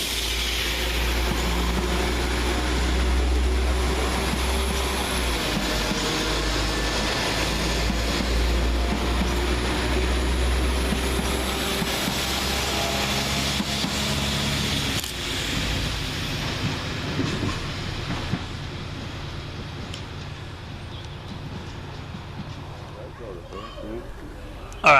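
A West Midlands Railway class 172 diesel multiple unit departs Stourbridge Junction, its engine a loud low rumble with steady broadband roar that gradually fades as it pulls away, with talk heard over it.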